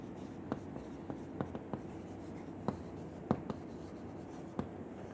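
A pen or chalk writes out an equation for a heat exchanger tube wall stress calculation, producing faint scratching with scattered sharp taps over a steady background hiss.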